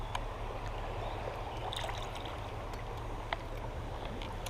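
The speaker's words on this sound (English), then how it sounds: "there's some shallow rapids coming down through here" Shallow rapids in a small creek run in a faint, steady wash of flowing water, with a few tiny clicks and splashes scattered through the continuous rushing and no talking.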